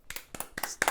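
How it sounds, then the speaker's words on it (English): A single person clapping: four quick, close hand claps in a loose rhythm, slightly uneven and fairly soft. "One of us had to clap."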